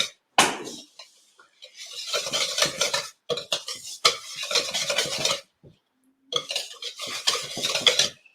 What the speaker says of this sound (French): Il faut vraiment tout mélanger pour que ça ait une consistance comme ça.